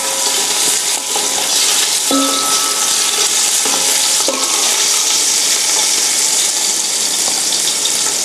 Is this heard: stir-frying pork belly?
yes